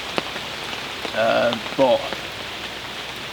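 Steady rain patters over a bushcraft camp in the woods during a night storm, a constant soft hiss throughout, with someone briefly speaking partway through.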